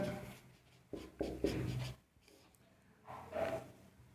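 Pen or pencil writing by hand on paper, soft scratchy strokes in two short bursts separated by a pause, close and quiet.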